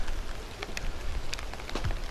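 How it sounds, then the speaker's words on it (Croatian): Rain falling outdoors, a steady soft patter with a few sharper drops and light crackles standing out, close and continuous for a couple of seconds with no talk. "Pada kiša, okisno će mi kamera."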